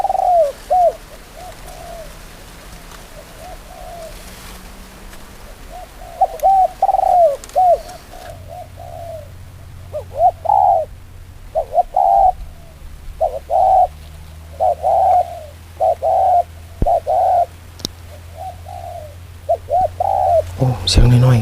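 A dove coos repeatedly in short rhythmic phrases of rolling notes with gaps between, fairly close, over a low steady hum and some faint background noise.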